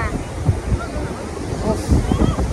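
Sea waves washing over boulders on the shore at Digha, a rough surging wash mixed with wind buffeting the microphone, with a person talking over it.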